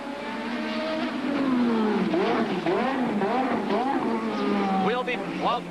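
Nigel Mansell's Formula 1 car drives the Detroit street circuit during the 1987 Grand Prix, its high engine whine rising and falling as it shifts gears, moderately distant beneath continuous commentary.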